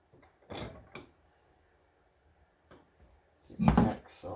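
A copper piece is clamped into a bench vise: a few short, sharp metallic-mechanical knocks and a rattling clunk at the end, separated by quiet gaps.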